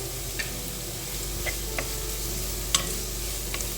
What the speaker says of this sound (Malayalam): ക്യാരറ്റും ചേർത്ത് നന്നായിട്ട് ഇളക്കിയെടുക്കുക.